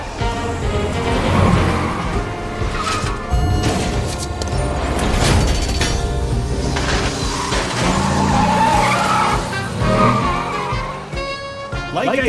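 Car skidding with squealing tires in an animated Lazarus episode, loud sustained engine roar and tire screech mixed with music and dramatic effects, voices speaking over parts of it.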